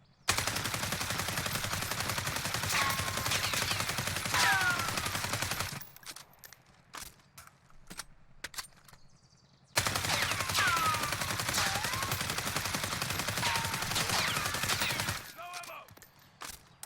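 An AUG rifle fired from the hip with a 60-round drum magazine in Warzone: two long, dense bursts of rapid automatic fire, each several seconds long, with a quiet gap between them and a few scattered shots and clicks after.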